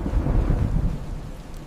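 Heavy rain pouring down with deep rumbling thunder, a loud, dense and continuous wash of sound with the low rumble rolling underneath.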